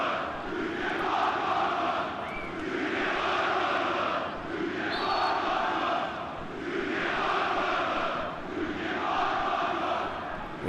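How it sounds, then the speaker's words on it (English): A football crowd at Ali Sami Yen Stadium in Istanbul sings in a big rolling chant that swells and ebbs in waves, loud and sustained throughout with no talk over it. "Well, they're certainly in good voice here. The crowd at the Ali Sami Yen Stadium."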